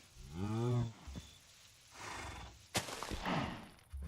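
A horse in Minecraft with the Create modpack lets out a whinny, a short rising-and-falling neigh near the start, followed by quieter game sounds and a sharp click.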